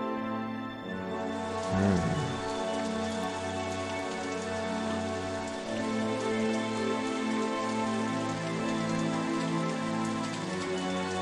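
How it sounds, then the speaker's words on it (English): Steady, dense rainfall patters across the whole stretch in the theme-park simulation game OpenRCT2, a constant hiss over looping game music with no talking. "and again, more rain. Wow. This is a wet year."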